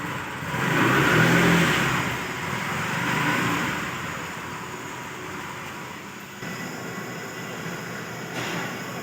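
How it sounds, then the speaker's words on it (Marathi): A car engine turning over and revving as the vehicle backs up, a broad rumbling roar swelling twice early on then settling into a steady, fairly loud drone without talk. "रिवर्स मध्ये घेत आहेत पाठीमागं गाडी"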